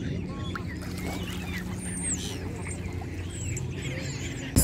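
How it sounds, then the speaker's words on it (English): Waterfowl and other birds at the Round Pond in Kensington Gardens, London, where swans, seagulls and doves gather: scattered calls and chirps over a steady outdoor murmur, moderately distant. "There's a round pond where there's a lot of swan and I think seagull and dove and birds here."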